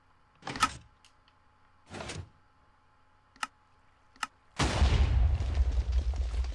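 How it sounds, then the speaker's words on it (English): In Minecraft, a dual-shot TNT cannon fires: a few short thumps and sharp clicks, then a loud, sustained rumbling explosion that fills the last two seconds. "And we are going to fire."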